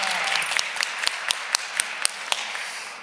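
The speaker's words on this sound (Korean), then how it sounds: "예, 우리 한번 박수하겠습니다." A church congregation claps after a Sunday service performance: a fading wash of applause with a few sharp, separate claps ringing out toward the end in a reverberant hall.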